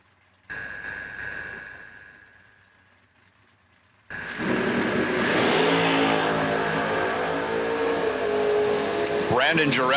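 A drag racing car launches off the line at an end-of-year bracket race event, its engine roaring loud and sustained after a quieter idle, with a commentator talking over it.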